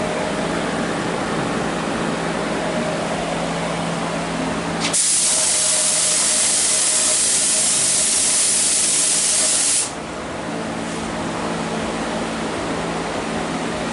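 A spray gun sprays thick gel coat onto a quarter-scale Chevy model part, a loud steady hiss lasting about five seconds in the middle, set against quieter background noise before and after.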